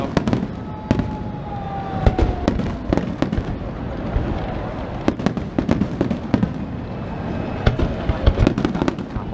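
Fireworks at the Redentore festival in Venice, a constant crackle of sharp bangs and booms at varied distances with rising whistles, loud and steady throughout.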